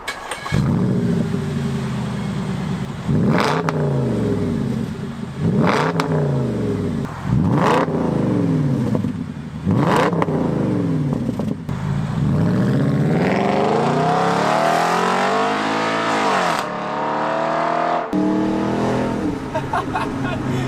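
A powerful Audi S5 V8 engine with a modified exhaust revs hard again and again in rising and falling sweeps, loud exhaust roaring close by, ending with a longer climbing rev.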